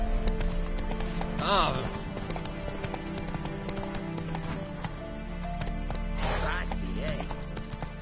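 Horse hooves clop in a steady running rhythm in The Witcher 3 video game, close and continuous under a rider's short remarks and a brief whinny.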